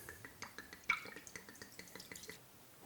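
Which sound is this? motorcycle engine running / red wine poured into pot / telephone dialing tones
red wine poured into pot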